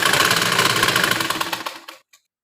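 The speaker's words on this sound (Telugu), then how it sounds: "చూడండి రా ఇలా అయితే స్టిచ్ వేసాను కదా" A close sewing machine stitches the side joint of a blouse in a fast, steady whirring run that sputters and stops after about two seconds, with one last brief click.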